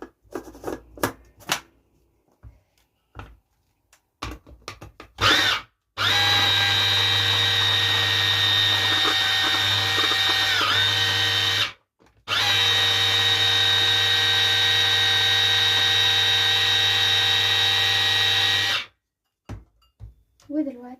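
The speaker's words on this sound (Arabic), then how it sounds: "ونرجع تاني نضرب المكونات دي كلها مع بعض." A blender whirs loudly in two long continuous bursts with a short pause between, mixing homemade Nutella ingredients with a drop of vanilla; brief clatter and a voice come before and after.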